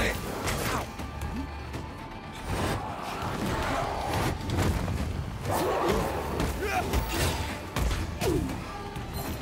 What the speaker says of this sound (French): Il y a plein d'explosions là.